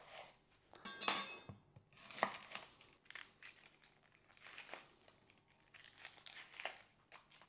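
Leek top being cut into smaller pieces on a kitchen board, a series of close crisp crunching and crinkling slices in an uneven rhythm, with no talk.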